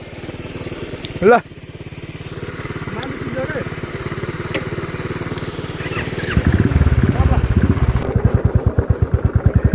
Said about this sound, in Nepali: मेकानिकले एकै तालमा बाइक स्टार्ट गरिदिएर अब हाम्रो हिँड्ने क्रम जारी छ